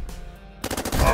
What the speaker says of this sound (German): Also ich kann dich kurz beide mit einem Schuss rösten.